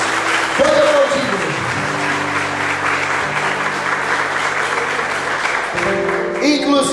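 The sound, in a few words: applause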